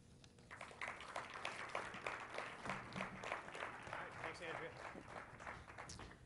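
An audience claps warmly for several seconds to welcome a speaker at an investment talk, a steady patter of many hands filling the room at moderate level.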